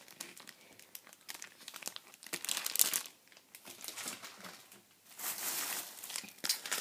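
Plastic resealable treat bags from a craft store crinkle and rustle as they are handled close by, in bursts of crackling with brief pauses between.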